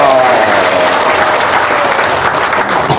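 Applause from a crowd, steady dense clapping throughout at a loud, close level with a faint voice mixed in.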